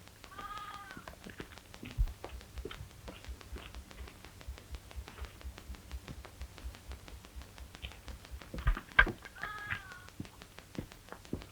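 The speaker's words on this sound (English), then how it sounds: "Nice little kitty." Faint, quiet cat meows come at the start and again near the end, set against a low, crackly background of soft taps and static from a 1932 Western film.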